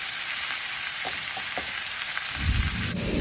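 Ground beef sizzling in a hot pan, a steady broadband hiss with a few soft stirring knocks, growing louder and fuller toward the end, with no talking.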